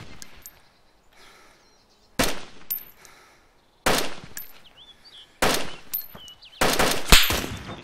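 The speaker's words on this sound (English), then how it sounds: "I'm gonna pull out the carbine and see what I can do." Carbine gunfire in a zombie survival shooter game: four sharp, loud bursts of shots spaced a second or two apart, the last a longer rapid volley, with quiet gaps between.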